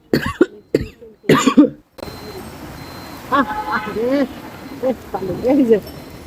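Rain falls steadily in a soft, continuous hiss, starting after someone coughs and clears their throat, with voices talking over the downpour.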